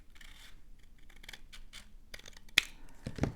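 Scissors trim the edge of a paper card in a few close, quiet snips, with light rustling of paper between cuts and a sharper clip near the end.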